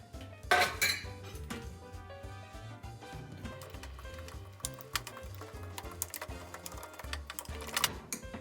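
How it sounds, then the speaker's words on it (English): Cake batter mixed in a bowl by hand, with rapid rhythmic clinking and scraping of a utensil against the bowl that continues steadily and close, with no talking. "Now let's just start mixing until it gets thick and creamy."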